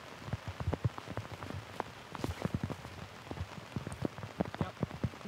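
Heavy rain showers patter hard on surfaces outdoors during a disc golf round, a dense close rattle of many drops that continues throughout with faint voices behind it.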